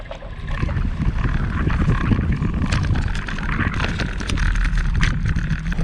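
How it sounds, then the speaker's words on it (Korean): Strong coastal wind roars along the east coast between Uljin and Samcheok. It buffets the microphone with a loud, continuous low rumble and gusting hiss throughout. "바람이 센데"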